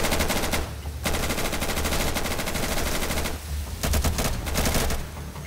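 Rapid automatic gunfire from the tactical shooter Insurgency rattles almost nonstop in loud, close bursts, with one brief pause before the shooting resumes.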